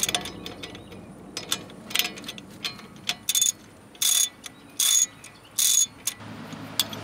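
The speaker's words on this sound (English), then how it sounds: "So I'm going to go ahead and remove those using a 19mm wrench. And loosen them with a breaker bar." A breaker bar with a ratchet loosening brake caliper bolts on a vehicle, a rapid clicking pawl ratchet heard close, followed by four evenly spaced loud bursts of ratcheting; no talking.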